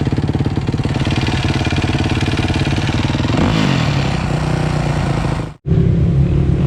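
A motorcycle engine running rough runs loud and close, with a steady, dense rumble, a brief shift in tone midway and a sharp momentary cut-out before it catches again.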